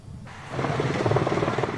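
Helicopters fly over a road blockade in Boyacá, a steady, loud rotor drone swelling in after a moment and holding continuously with no speech over it.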